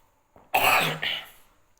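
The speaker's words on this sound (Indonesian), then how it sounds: "lagi batuk ya bro." One rough, close cough with a throat-clearing rasp, followed by a shorter second burst, then quiet.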